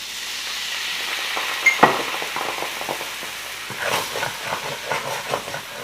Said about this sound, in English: Next we want to deglaze this pan with about a quarter cup of red wine.